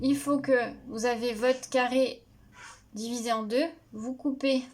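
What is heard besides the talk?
No everyday noises stand out.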